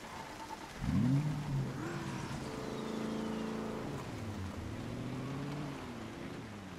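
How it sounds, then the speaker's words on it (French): Car in Project Zomboid starting and driving, engine revving up sharply then holding a steady droning hum with shifting pitch as it accelerates and cruises. "On va prendre la voiture."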